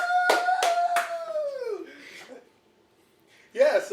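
A single voice imitates a cheering crowd with a drawn-out whoop over three quick hand claps during a podcast, followed by a short pause and a brief burst of voice.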